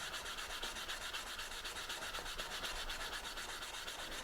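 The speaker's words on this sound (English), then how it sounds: "I want to take this edge and break it down. I want to get a nice rounded edge on here." Hand sanding a fiberglass edge to round it over on a Mini Cooper logo sign, a steady close scratchy rubbing that continues evenly throughout with no talking.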